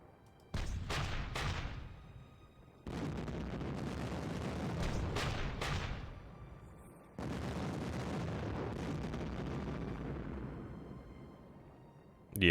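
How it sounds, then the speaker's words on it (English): Artillery bombardment in the Hell To Pay game during a Kyushu assault, Japan 1945: heavy rumbling bursts of shelling in long sustained waves, with sharp cracks at the start and a pause between barrages. "let's figure out where we need to bring the artillery down."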